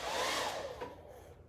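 Hair dryer blow drying a freshly styled look, a brief airy rush that fades out within a second or so.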